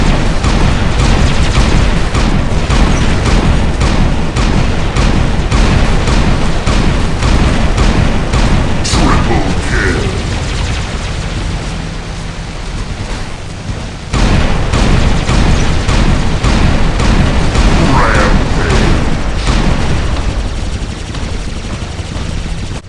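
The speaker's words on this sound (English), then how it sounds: "with the constant fire of the magnums, I can sort of keep on him and eventually sort of plug away and win" Rapid magnum gunfire from a shooter video game crackles loudly and almost without pause, with heavy booming shots and explosions layered throughout and a brief lull near the middle before the barrage resumes.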